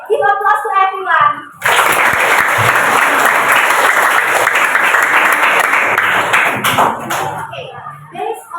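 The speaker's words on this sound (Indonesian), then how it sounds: "give applause to everyone" Classroom students break into a burst of loud clapping that lasts several seconds, with a teacher speaking before and after the applause.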